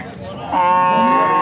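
At a livestock market in Andijan, Uzbekistan, a cow lets out a loud, drawn-out moo up close, starting after a brief stretch of background murmur and holding to the end.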